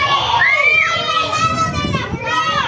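Children shouting and squealing together at close range, high excited cries rising and falling over a busy crowd of kids' voices for a few seconds.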